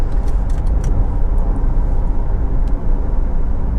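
A Honda CR-V 1.6 i-DTEC diesel with automatic gearbox and 4WD, heard from inside while driving: a steady, fairly loud low engine drone and road rumble with no clear gear-change breaks.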